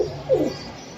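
Pigeons at a bird market selling breeding pairs give a soft, low cooing phrase that swells briefly in the middle of the moment against a murmur of background noise.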